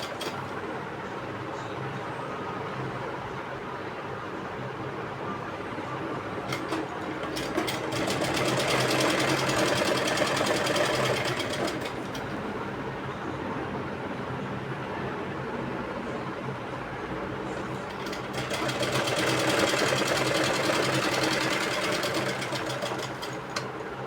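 A sewing machine stitches a pocket onto a pair of pants, running in a steady mechanical whir that swells louder in two long bursts and eases between them.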